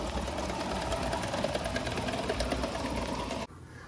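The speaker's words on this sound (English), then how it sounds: "I'm surprised at how much this locomotive loves the big broad curves up here" Circa 1928 Bowman 265 live steam model locomotive running on track: a close, busy rapid chuffing and mechanical clatter that continues steadily, then drops away sharply near the end to quieter background.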